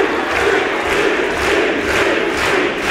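A crowd of about a thousand wrestling fans at York Hall in London roars and chants in a dense, loud, continuous wall of voices.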